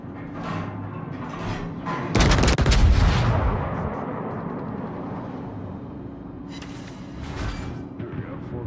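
Heavy naval gunfire in a warship video game, with a loud booming volley and rumbling blast in the middle and sharper reports later, over continuous engine hum, no voices.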